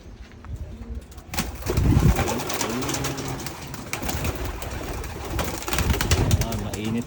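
Racing pigeons coo in soft repeated rolls close by, with wing shuffles and a faint background voice mixed in.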